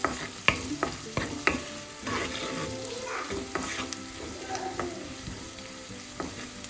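Crushed dried chili and carrot sauté in a pan, with a soft sizzle under repeated scraping stir strokes and a few sharp utensil taps, close and moderately loud.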